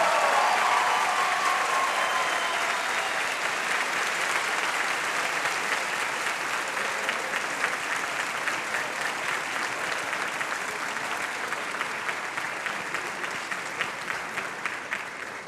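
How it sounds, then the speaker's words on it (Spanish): Sustained audience applause at the Bogotá International Book Fair 2018, welcoming guests to the stage, a dense steady clapping from a large crowd that stays loud throughout and tapers slightly toward the end. "Recibamos a nuestros invitados con un fuerte aplauso"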